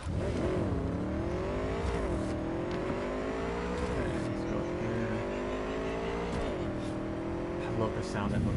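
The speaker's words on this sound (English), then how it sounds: "I love the sound that motorcycle makes." A motorcycle engine in Cyberpunk 2077 revs loud and close in repeated rising and falling waves under steady game noise.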